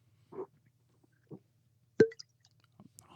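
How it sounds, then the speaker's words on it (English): A single sharp pop as a cork pulls free from an Old Forester 1920 whiskey bottle, preceded by a couple of soft handling squeaks and followed by light clinks in an otherwise quiet room. "let's see if I can get a cork pop"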